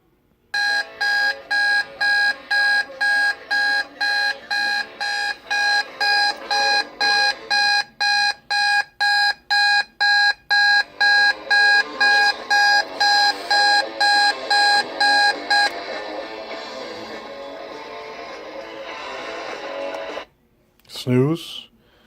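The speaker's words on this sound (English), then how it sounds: "hit pause and wait until the alarm goes on." A 1983 Lloyd's Model J211 clock radio alarm beeps in a fast, steady pulsing pattern for about fifteen seconds, then switches to a continuous ringing tone before stopping with a brief click.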